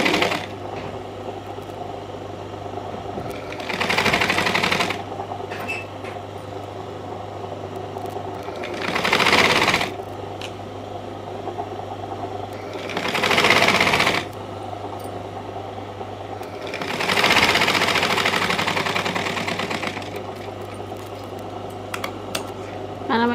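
A sewing machine stitches a long frock in several separate bursts, each running a few seconds, close and moderately loud, with a steady low hum and quiet handling noise between bursts.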